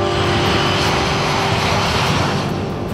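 A propeller aeroplane's engine drones continuously and loudly from inside the cabin, a steady unbroken roar with no voices over it.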